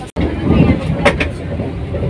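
Steady rumbling of a moving Vande Bharat Express train heard from inside, a continuous low roar with brief clanks, a short dropout near the start.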